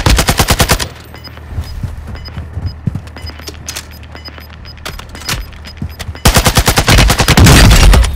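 Rapid automatic gunfire in Warzone 2.0 comes in loud, dense bursts at the start and again toward the end. A quieter stretch of scattered shots and distant fire lies between them.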